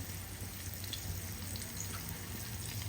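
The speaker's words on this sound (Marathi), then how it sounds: "दिसतो तुम्हाला हा पॉपलेट गेला तव्यामध्ये" A pomfret fish fries on a tawa in the Agri style of cooking, giving a faint, steady, close sizzle with light crackles throughout and no talking.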